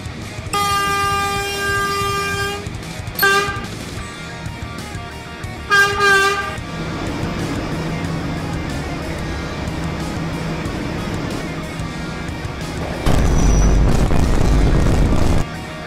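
A D train passes along an elevated line up the street, with loud rumbling wheels and repeated horn blasts early on, then sustained rail noise swelling to a heavy roar near the end.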